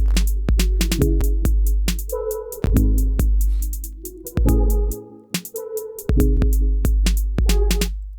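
A punchy Roland 808-style drum-machine beat with deep booming kicks, snappy hits and bright ticking hats in a steady loop, with short pauses between phrases.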